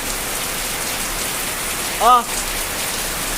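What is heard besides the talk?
heavy rain falling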